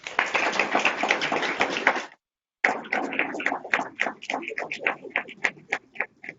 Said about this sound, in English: Please give Dr. Byrd a round of applause